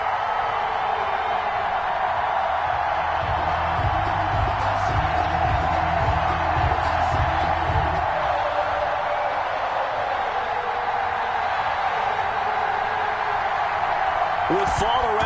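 A roaring football stadium crowd in an EA Sports game, before a Houston Gunners versus Kansas City Chiefs matchup, holds a steady loud cheer throughout, with a rhythmic thumping in the first half and a commentator talking over it.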